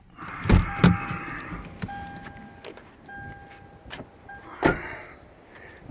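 A 2015 Toyota 4Runner SR5 4x4 with its motor shut off, heard from the cabin as a door clunks open and a steady electric whine, like a power window or chime, runs in short stretches, followed by a couple of thumps as someone climbs out.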